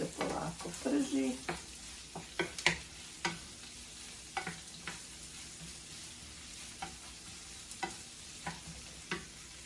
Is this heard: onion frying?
yes